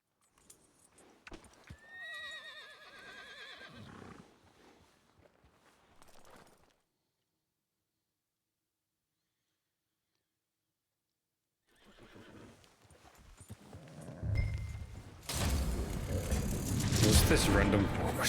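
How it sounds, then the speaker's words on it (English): A horse in Red Dead Redemption 2 whinnies clearly, then goes quiet before hoof clip-clops and louder game noise build up later, with players talking over parts of it. "What's this random horse doing here?"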